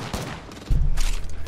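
Gunfire in an online shooter game: a rapid burst of shots, then a louder, denser volley of firing, close and with no voice over it.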